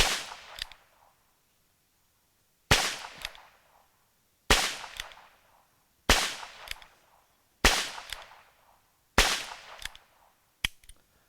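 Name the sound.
Ruger Wrangler revolver shots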